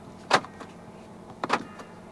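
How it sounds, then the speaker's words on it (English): Central locking on a 2019 Proton X70 1.8 TGDi 2WD Executive actuating inside the car, two short mechanical clunks about a second apart, quiet cabin otherwise. "Electronic central locking."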